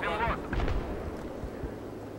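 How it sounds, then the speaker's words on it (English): Gunfire hitting the player in the Battlefield 3 video game: several sharp, close impact bursts in quick succession over rumbling battle noise, partly under a voice. "Oh, I'm getting shot."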